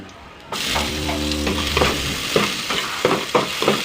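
Garlic and onion frying in a pan for ginataang kalabasa with malunggay, starting with a sudden loud sizzle, then stirred with repeated scraping clinks of the utensil against the pan.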